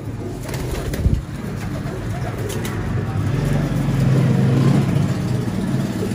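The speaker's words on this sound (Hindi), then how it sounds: "ये जी गोल्डन कबूतर एक और" A golden pigeon coos outdoors amid a low, steady rumble of passing traffic, the soft bird calls faint under the engine noise.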